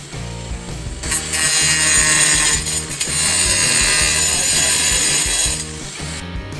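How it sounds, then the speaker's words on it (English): Angle grinder fitted with a diamond blade slicing through porcelain tile, a loud continuous high-pitched whine and grinding screech that holds steady for several seconds before spinning down. "in order to cut them and get these detailed cuts, I needed to use a diamond blade on an angle grinder"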